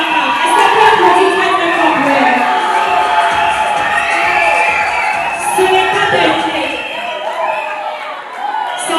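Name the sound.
audience applauding and cheering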